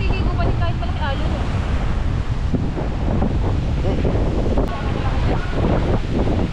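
Big ocean waves crash and roll continuously onto the sand at Boracay beach, a loud steady surf roar with wind buffeting the microphone throughout.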